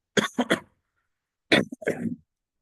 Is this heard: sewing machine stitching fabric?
no